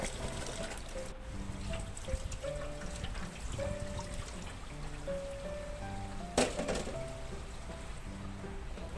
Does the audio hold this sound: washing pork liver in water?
yes